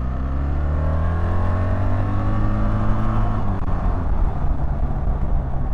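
A 2024 BMW R1300GS ASA motorcycle accelerates up a hill, its engine note rising in pitch through a gear as it pulls, loud and close, over wind rush.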